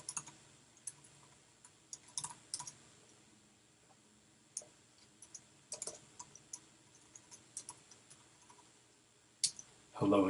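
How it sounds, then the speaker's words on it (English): Keys clicking on a computer keyboard while commands are entered in a Jupyter notebook, sparse light taps scattered across several seconds with a louder burst at the end. "I can type another command here."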